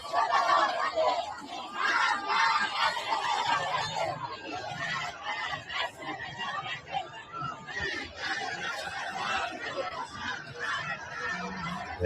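A huge protest crowd in Abdanan, Iran, gathered after a funeral, with surging shouts and chanting from many voices, loud at first and then a busier, slightly softer mix of cries and chatter continuing throughout.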